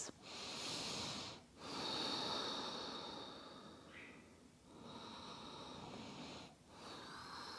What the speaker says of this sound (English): A couple of big breaths.